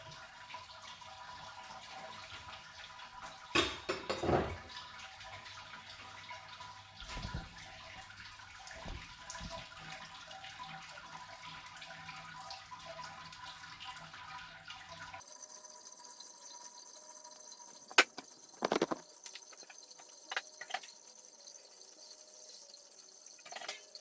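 Water draining out of the grain mash in a home-brewing setup for a Mosaic DIPA, a steady running, trickling wash that continues throughout, with a few louder splashes and a quieter, thinner flow in the second half.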